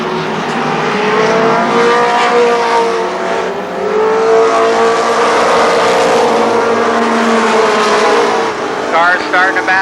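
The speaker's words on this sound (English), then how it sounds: "Cars starting to battle back in the pack." Race cars roar around Columbus Motor Speedway during a 1995 race, a loud continuous engine drone rising and falling as cars battle in the pack, with an announcer talking over it.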